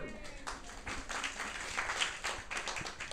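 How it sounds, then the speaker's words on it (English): An indoor audience at a neighbourhood community talk claps, a moderate, scattered round of applause lasting a few seconds with some voices underneath. "Give them a clap."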